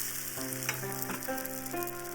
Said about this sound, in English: Put 1/3 of the egg into the frying pan and spread it thinly.